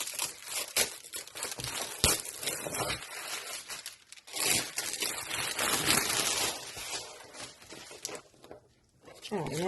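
Crinkly plastic packaging torn and crumpled while an A3 binder is unwrapped, a dense run of close, loud rustles and rips with brief pauses, with no one speaking.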